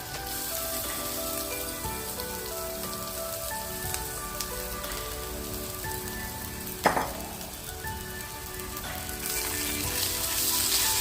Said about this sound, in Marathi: आता आपण ह्यामध्ये आपली किसलेली हळद आहे ती घालणार आहोत